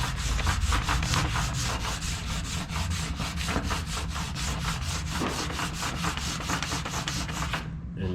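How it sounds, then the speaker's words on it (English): A lumber crayon is rubbed steadily over taped-out hot rod flame lines, making a continuous loud, close scratching and scraping with a fast back-and-forth rhythm and no talk. "I'm going to start rubbing."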